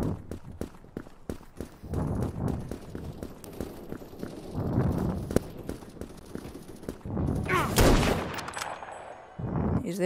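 Rapid gunfire from a sniper rifle in the shooter game Krunker, a string of sharp repeated shots with footsteps and action noise between them, loud and close.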